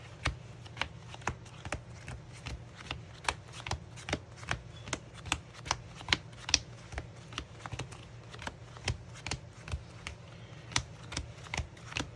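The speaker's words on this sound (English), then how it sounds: "We're gonna power shuffle again." Yu-Gi-Oh trading cards riffle and snap in a fast, steady rhythm of power shuffling, crisp close-up clicks repeating evenly over a low background hum.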